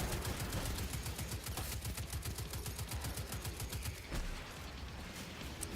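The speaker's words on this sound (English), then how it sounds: "Eat my rockets." Rapid rocket launcher fire in the shooter Destiny 2, a dense stream of loud repeating bursts and blasts at a steady fast rhythm, with heavy low-end rumble throughout.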